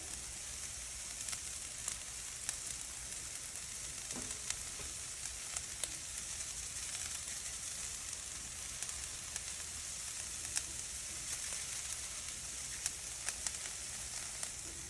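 Food sizzles and fries steadily on a Blackstone flat-top griddle while a smoked brisket melt is made, a continuous close crackle with small pops and occasional scraping ticks, no voices.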